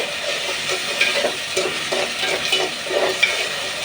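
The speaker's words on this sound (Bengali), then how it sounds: "এখন আমি পেঁয়াজগুলোর সাথে ভালো করে নাড়া দিতে থাকব" Onions and ginger paste stirred in a hot frying pan, a steady close sizzle with scraping strokes of the spoon recurring throughout, no talking.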